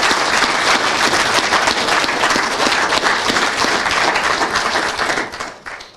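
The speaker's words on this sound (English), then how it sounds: "can we give a clap for the team?" A graduation ceremony audience claps for the team in a steady, dense, loud burst of applause that fades out near the end.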